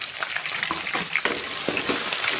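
Garlic, ginger and curry leaves frying in a pan for chicken gravy, a continuous close crackling sizzle with scattered pops and spatters throughout.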